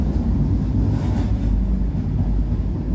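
A train carrying soldiers rumbles past in a steady, loud low roar with no break, and no voices are heard.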